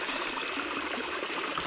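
Clear forest stream flowing, a steady close rushing and trickling of water that runs unbroken through the short stretch with no voices.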